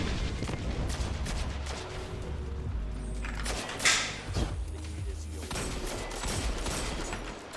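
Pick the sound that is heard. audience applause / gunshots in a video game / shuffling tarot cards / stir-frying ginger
gunshots in a video game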